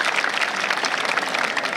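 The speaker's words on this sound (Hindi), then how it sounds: "एक बार जोरदार ताली" Audience applause at an outdoor village stage event, a dense, steady wash of many hands clapping close and fairly loud throughout, with no voices over it.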